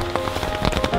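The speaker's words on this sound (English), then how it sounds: "Rain is a reality that we must face." Rain falling on a tent while camping and backpacking in Shenandoah National Park, Virginia, a dense steady patter of close drops filling the moment.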